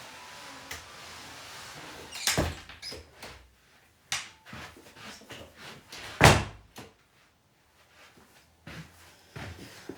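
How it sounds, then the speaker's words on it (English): Someone shuts a door indoors in a bedroom, with a couple of loud wooden bangs and thuds among softer handling clicks and knocks, spread over several seconds in an otherwise quiet room. "I'm going to shut this door so he can't hear me."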